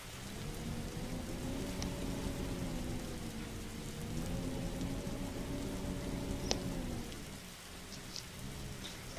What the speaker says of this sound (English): Oh, good, the rain.